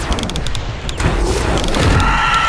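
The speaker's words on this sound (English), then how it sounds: "These guys explode." Enemies blowing up in the VR archery game Bardo, a dense run of booming, crackling blasts that carries on steadily for the whole stretch at high volume.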